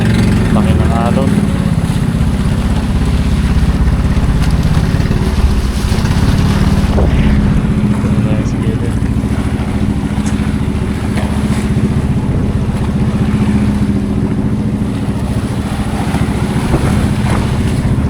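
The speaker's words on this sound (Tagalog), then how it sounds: "Laki ng alon." Big waves wash around a motorboat out fishing, a constant loud roar of water, wind and engine with rumbling buffeting on the microphone, while people talk over it.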